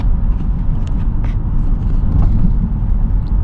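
A Jaguar S-type R with worn suspension rolls along with a steady low rumble and road noise, broken by faint knocks and scrapes from underneath.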